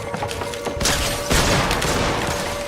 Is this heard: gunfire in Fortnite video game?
yes